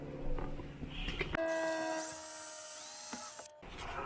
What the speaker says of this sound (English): your drill guide helps keep your drill bit in the correct position up and down, but it also helps with the depth